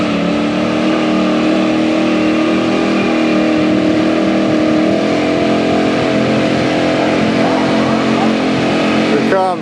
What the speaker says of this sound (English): Ronnie Buckles, world record burnout attempt.